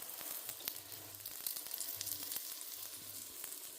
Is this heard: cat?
no